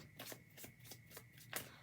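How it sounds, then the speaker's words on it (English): A tarot deck being shuffled, giving soft repeated riffling bursts of card noise at an uneven rhythm with a sharper flick near the end, quiet and close with no voice. "take that question in mind while I shuffle this deck"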